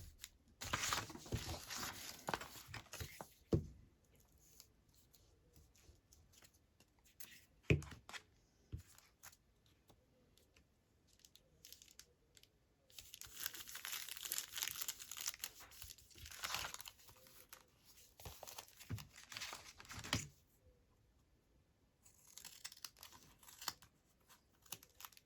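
Paper being trimmed from a handmade collage, with crisp snipping and crinkling rustles coming in uneven bursts, close and fairly quiet, separated by near-silent pauses.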